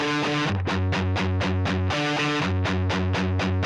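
Electric guitar through a cheap $16 distortion pedal turned all the way up, a loud fuzzy, tinny buzz of repeated chugging chords in a steady rhythm, alone.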